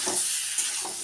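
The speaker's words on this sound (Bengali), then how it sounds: "টমেটো দিয়ে কিন্তু আমি খুব বেশি ভাজবো না, অল্প একটু ভেজে তারপর জল দিয়ে দেবো" Tomatoes fry in a pan for a rupchanda fish curry, giving a brief, steady sizzle and hiss close by, with faint stirring scrapes.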